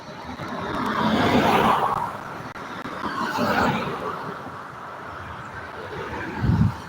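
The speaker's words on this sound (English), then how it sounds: "there's still a lot of cars coming" Cars pass on a street, broad whooshing swells that rise and fade twice, then a low rumble at the close, heard outdoors with some wind and no clear talk.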